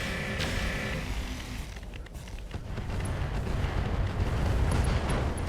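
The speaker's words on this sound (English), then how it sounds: "Ammo explosion." Ammo explosion of a mech in the Roguetech video game: a sharp blast at the start followed by a long rumbling, crackling roar of debris and fire that swells and stays loud to the end.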